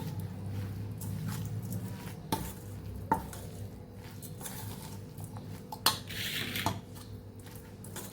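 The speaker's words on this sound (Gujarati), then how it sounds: "લાલ મરચું પાવડર જે લીધેલું એ પણ આપણે આમાં ભેળવવાનું છે તો સરસ આપણે બધું મિક્સ કરી દઈશું" Spices and red chili powder get stirred into grated raw mango for a lachha pickle, with faint scraping and a few sharp clinks of a spoon against the bowl, close up and quiet.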